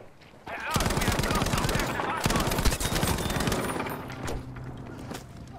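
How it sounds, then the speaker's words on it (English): Rapid automatic gunfire in Battlefield V, a loud continuous burst of shots lasting several seconds before thinning out, with faint game sounds and a little voice in the mix. "Where did that shot come from?"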